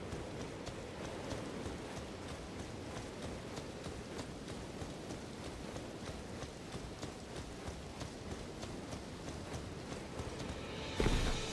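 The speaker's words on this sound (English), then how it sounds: "It is raining." Steady rain pours in Elden Ring, an even hiss that holds at one level throughout, with a brief louder burst at the very end.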